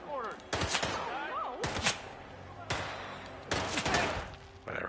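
Gunfire in the Hitman video game on PSVR2, several loud bursts of rapid shots in separate clusters, mixed with game voices and scattered thuds.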